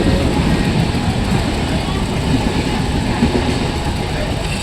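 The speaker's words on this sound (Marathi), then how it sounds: "आज फाटकवरून लोकल जाताना बघू." A local train rolls past a railway level crossing near Neral, a steady loud rumble of wheels and wagons running throughout with a faint voice underneath.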